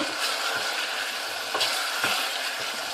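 Chicken sizzles in a hot pan for white chicken karahi, a steady loud crackle and hiss with the occasional scrape of stirring, heard without talk.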